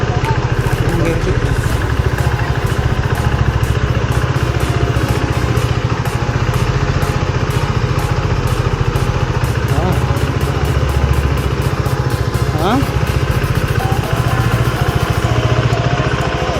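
A two-wheeler motorcycle engine idles steadily near a temple, a continuous low chugging rumble that runs throughout while voices talk over it.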